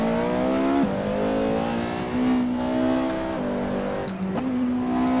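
A Porsche 918 engine in the Assetto Corsa racing game revs hard and continuously, rising in pitch and dropping sharply at several gear shifts over a steady, loud drone.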